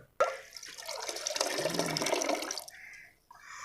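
Water pours steadily into a container for a couple of seconds after a sharp clink, then stops, followed by a faint splash.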